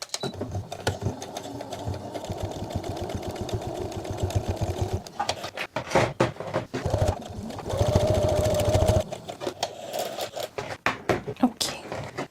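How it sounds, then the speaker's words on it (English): Sewing machine stitching the sides of a homemade sleep mask in repeated close bursts of rapid whirring, with stops and starts between runs and a voice talking at times. "I'm actually going to do a single stitch just along each side, and then I'll zigzag it together"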